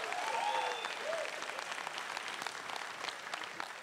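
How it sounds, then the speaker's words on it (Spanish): Audience applause at a Mexican stand-up comedy show, a dense wash of clapping that starts loud and tapers slightly over a few seconds, with a brief whistle or cheer near the start. "¡Ese es aplauso de los hombres, chingao!"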